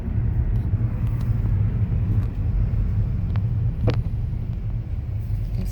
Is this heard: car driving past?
yes